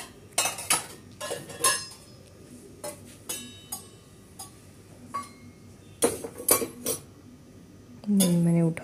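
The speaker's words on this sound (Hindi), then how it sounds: "और भाई अब बर्तन धोऊंगी मैं, थोड़ी साफ़ सफाई कर दी थी।" Dishes, cutlery and pots from an evening of tea are washed in a home kitchen sink, with sharp metallic clinks and clatters coming in irregular bursts, close up, ending in a short run of running water.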